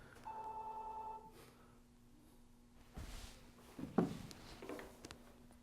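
A phone rings in a classroom, a single electronic ringtone burst of about a second heard at moderate distance, followed by rustling and scattered room noise.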